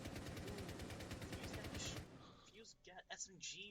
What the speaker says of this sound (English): Fuse got SMG by Cav herself.